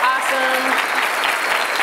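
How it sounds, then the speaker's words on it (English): Audience at a games festival keynote talk applauds with a dense, sustained burst of clapping that stays loud and even for its whole short length. "I just wanted to give another round of applause to the organizers of this festival"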